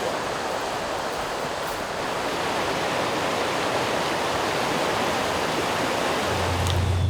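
Creek water rushes steadily at a vehicle river crossing, a loud, dense, unbroken roar of flowing water with no voices and no gaps.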